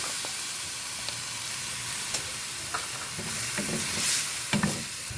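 Chopped tomatoes sauté in margarine in a hot pan with browned garlic, ginger and onion for a snail dish, giving a steady soft sizzle with several scraping stirs of a utensil against the pan, no voices.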